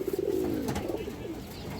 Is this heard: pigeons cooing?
yes